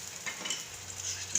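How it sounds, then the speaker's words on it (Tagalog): Butter hits a hot pan and gives off a steady, close hiss with a light crackle for a short moment, and no voices are heard. "Tapos butter lang atong i-butang."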